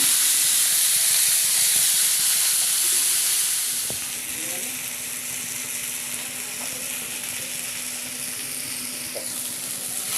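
Ginger paste and tomato frying in masala for a Bengali egg and brinjal dish, a steady close sizzle and hiss that drops a little quieter after the first few seconds and carries on evenly.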